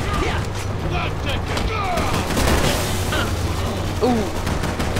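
Gunfire from gun-wielding zombies in the video game Resident Evil 6, a dense stretch of rapid shots and booms that runs continuously, with game voices and effects mixed in.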